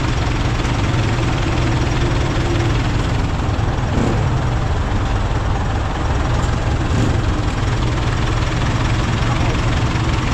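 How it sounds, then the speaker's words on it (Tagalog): A farm tractor engine idles steadily and loudly throughout, a constant low rumble with faint voices in the background. "Traktora."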